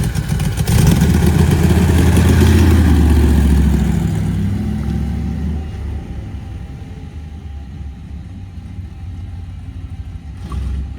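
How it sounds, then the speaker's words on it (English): A Chevrolet Corvette Stingray engine, whose throttle sticks, rumbles loudly and close with a sustained rev in the first few seconds, then settles to a quieter idle-like drone as it drives on. "going to attempt to drive the Stingray"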